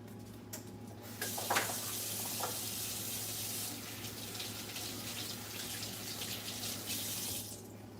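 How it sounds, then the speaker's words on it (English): Running kitchen tap water washing fresh produce in a sink, a steady close hiss and splash of flowing water with a few brief clinks, continuing without a break and no talk. "first thing to do is wash and dry all the produce"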